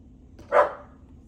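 A single sharp dog bark, fairly close and loud, stands out briefly against a quiet room with low background hum.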